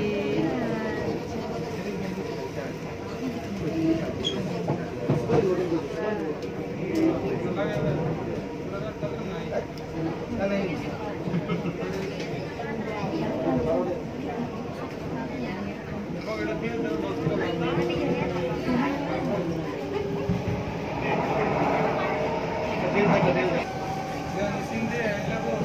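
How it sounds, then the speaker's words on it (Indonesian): Inside a moving MRT metro train, a steady low rumble and rattle of the carriage runs throughout beneath frequent nearby conversation, with occasional squeals and chimes. "kereta api."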